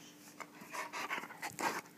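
A puppy panting close by, rapid rhythmic breathy huffs in quick bursts, with a small whimpery edge near the end.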